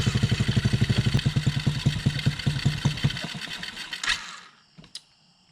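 A Coolster Chinese quad engine cranks over and catches, running with a fast rhythmic chugging pulse for about three seconds before dying away, followed by a couple of faint clicks and knocks in near silence.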